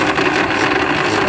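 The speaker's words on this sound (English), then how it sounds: "This thing right here is scraping away." A Chrysler PT Cruiser's electric radiator cooling fan scrapes and whirs steadily and loudly under the hood, a continuous grinding drone with no pauses and no talking.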